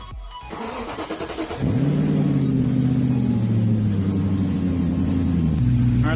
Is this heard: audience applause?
no